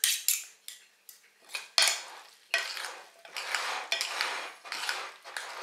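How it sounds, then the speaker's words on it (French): Carbonara pasta with egg yolks and cheese being stirred in a pan, a utensil scraping and clinking against the metal in quick, irregular strokes with short pauses, close and fairly loud, with no talking. "Alors, on n'hésite pas à mélanger, hein, pour que tout soit bien incorporé,"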